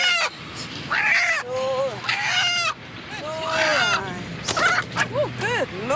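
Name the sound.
stressed chicken squawking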